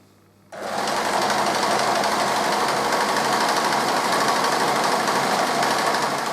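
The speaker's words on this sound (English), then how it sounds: "So I'm just going to sew along here" Sewing machine starting after a brief quiet moment and then stitching a seam on a Viking cloak, a fast, even, continuous mechanical whirr, close and loud, with no talking.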